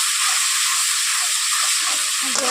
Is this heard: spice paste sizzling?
yes